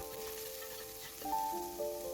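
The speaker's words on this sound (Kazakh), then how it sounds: "Қызып тұрған қазанымызға кішкене май қойып жіберіп, пиязымызды, сонан соң сәбізімізді салып жақсылап қуырып алатын боламыз" Onion and carrot frying in oil in a hot pot for a meatball soup, a soft steady sizzle heard close and quiet, with a faint tonal hum over it and no talking.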